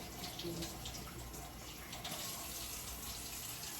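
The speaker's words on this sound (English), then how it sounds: "I'm gonna wash my hands because I was dealing with." A running kitchen tap pours steadily into a sink while hands are washed beneath it, a close, even rush of water with faint splashing shifts and no talking.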